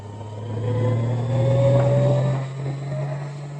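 Motorcycle engine running steadily close by, with a rising drone that swells in the middle as it pulls away and then eases off slightly, with no voices.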